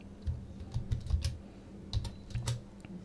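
Typing on a computer keyboard while entering a command in AutoCAD 2007 produces a short burst of light, close key clicks in small irregular clusters, with no voices.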